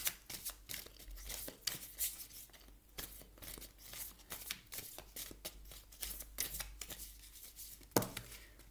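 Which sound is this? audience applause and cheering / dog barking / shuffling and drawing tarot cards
shuffling and drawing tarot cards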